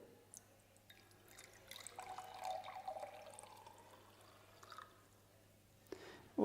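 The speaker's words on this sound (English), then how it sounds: "let's pour in how much water we collected" Water collected for a buoyancy experiment being poured into a beaker: a quiet, thin trickle lasting a few seconds, then a small clink near the end, with no talking.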